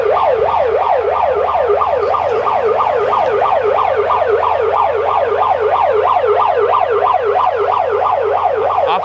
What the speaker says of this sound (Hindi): सायरन इसलिए बजाया जा रहा है सिर्फ ताकि अगर कोई घर से बाहर बैठा है